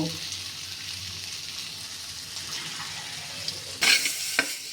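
Spice paste for Bengali mochar dhoka frying in a pan gives off a soft steady sizzle as it is stirred, ending in a louder splash and clatter.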